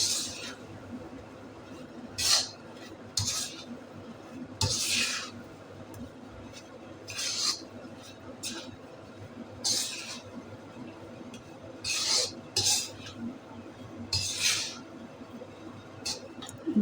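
Gram flour (besan) being stirred and roasted in a pan for traditional besan laddoos, with a string of bright scraping clinks from the spoon against the pan at an uneven rhythm over a low, steady background.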